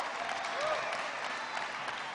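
Steady applause from the audience at a city State of the City address, greeting council members; a dense, even wash of clapping held throughout at moderate level.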